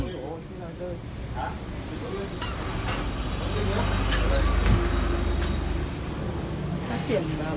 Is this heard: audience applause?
no